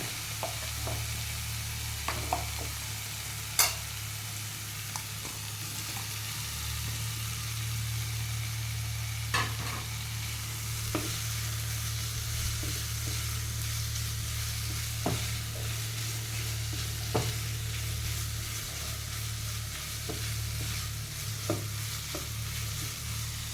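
Paneer bhurji frying in a pan and being stirred, with a constant low sizzle broken by sharp scraping knocks of the spoon against the pan at irregular intervals, no talk.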